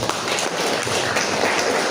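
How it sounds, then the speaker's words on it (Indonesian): Dense, steady applause from a large crowd at a workshop, a continuous wash of many hands clapping with no voices on top. "tepuk tangan untuk Bapak Ibu semuanya"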